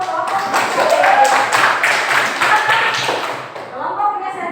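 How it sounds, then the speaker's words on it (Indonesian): A group in a classroom clapping for the kinesthetic group, a dense, steady round of applause lasting several seconds before tapering off, with voices mixed in. "Tepuk tangan dulu untuk kelompok kinestetik."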